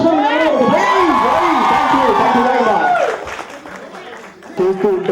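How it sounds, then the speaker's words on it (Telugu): A wedding sangeet audience clapping loudly and cheering, with whoops and shouts riding over dense applause for about three seconds before it thins out into scattered claps and chatter. "ఇంకోసారి గట్టిగా క్లాప్స్ కొడండి."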